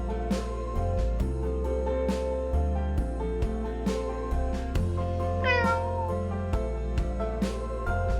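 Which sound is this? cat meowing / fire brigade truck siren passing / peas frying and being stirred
cat meowing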